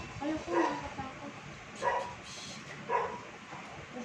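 A dog barks three times at a moderate distance in a spaced rhythm, with a faint background hum throughout.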